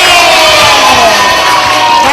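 Kindergarten children cheer together in a classroom, a loud, continuous burst of young voices shouting in unison for about two seconds.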